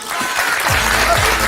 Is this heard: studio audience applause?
yes